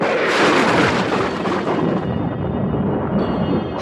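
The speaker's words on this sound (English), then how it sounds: "Thunder crashed outside the house, and the Otises heard a dreadful cry." A loud, rolling thunder crash, a heavy rumbling roar that fills the space and slowly fades, with no voices.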